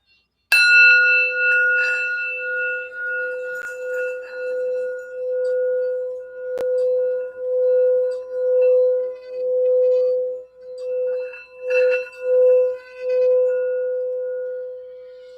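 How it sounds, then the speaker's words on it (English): A single bell strike rings out clearly and then hums on in a long, pulsing tone that slowly fades, with no voices. "I just wanted to start off with the sound bell to get our focus of the energy"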